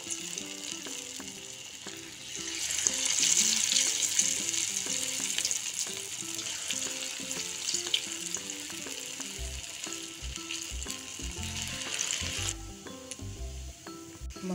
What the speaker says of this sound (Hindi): मंगोड़ों को गोल्डन ब्राउन होने तक फ्राई करेंगे